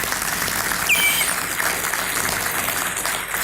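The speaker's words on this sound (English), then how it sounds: "I would like to have you give yourself an applause for what y'all did to help us move forward." A breakfast crowd at a city and county event gives steady, dense applause throughout, fairly close and loud with no talking over it.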